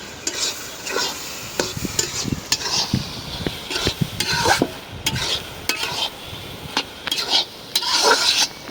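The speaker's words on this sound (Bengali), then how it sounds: "দিয়ে দিলাম একটু জিরার গুঁড়া আর একটু পানি দিয়ে দিছিলাম, পানিটা শুকাই গেল, এখন ভাজা ভাজা হয়ে গেছে।" Rohu fish roe frying with bitter gourd and cumin powder as the water cooks off, stirred briskly in a pan: repeated scraping strokes over a crackling sizzle, close and loud.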